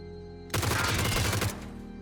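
A G36C rifle fires at a snow bike in PUBG: a single close, loud automatic burst of roughly a dozen rapid, evenly spaced shots lasting about a second, with quiet before and after.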